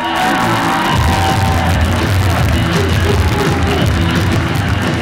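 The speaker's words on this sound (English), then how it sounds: "Help me welcome to the stage with a big round of applause, Mike Stevens." Loud audience cheering with shouts and whoops from a club crowd welcoming a comedian to the stage at a comedy show, a dense, sustained roar filling the whole stretch.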